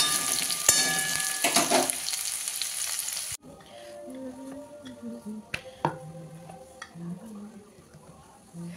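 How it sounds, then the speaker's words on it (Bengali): Diced potatoes fry in a pan, a loud dense sizzle at first that drops suddenly to a quieter crackle with scattered pops and clicks of stirring, while a voice speaks faintly underneath. "আলু ডুমো করে বসিয়েছি, আলু ভাজা হচ্ছে"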